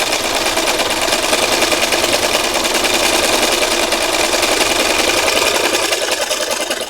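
A sewing machine runs at steady speed, stitching through fabric and a bamboo guide, with a continuous fast whirring clatter that holds evenly loud from start to finish.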